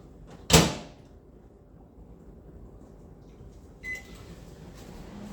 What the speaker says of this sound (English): I put some milk in here, maybe like half a cup, and then I microwave that to heat it up